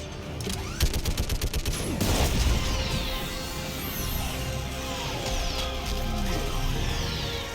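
Mass Effect 3 orbital strike on a live Reaper: a rapid volley of sharp impacts gives way to a huge sustained roar and rumble, with descending whooshing streaks sweeping through the dense, continuous blast of noise.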